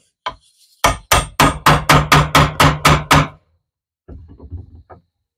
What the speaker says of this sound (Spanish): Vamos con el martillo y nuevamente